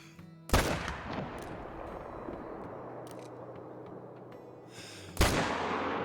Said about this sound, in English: I think we're probably going to bust out the M1 and make a perfect shot on this guy